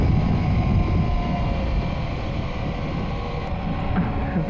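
BMW R1250GS Triple Black with its boxer twin and Akrapovic exhaust, ridden on winding mountain roads in La Rioja; a steady low engine rumble sits beneath heavy, continuous wind noise.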